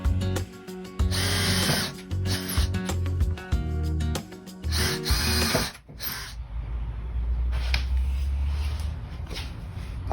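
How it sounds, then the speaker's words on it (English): A power drill boring a pilot hole in wood for a shelf build, with several loud whirring bursts that start and stop, followed by a lower, rougher grinding stretch as the bit works through the timber. "you should always drill a pilot hole"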